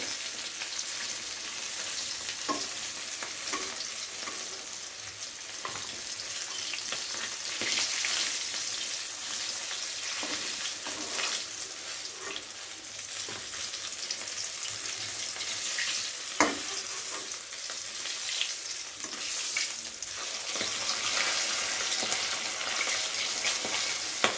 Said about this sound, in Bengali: এবারে এক এক করে মাছগুলো ভেজে নেব।